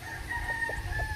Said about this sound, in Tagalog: Napakagwapong manok po ng ating Boston mga idol.